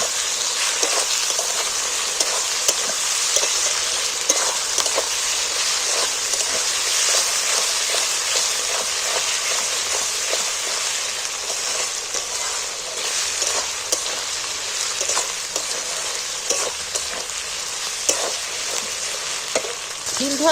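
Chicken sautéing in a hot pan with garlic paste and ginger paste for a lemon chicken curry gives a dense, steady sizzle that runs unbroken for about twenty seconds. It is loud and close, with faint stirring and no voices.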